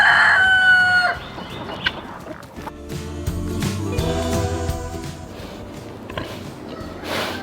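A rooster crows loudly at the start, followed by hens clucking and murmuring nearby with scattered farmyard noise on a homestead with goats and pigs.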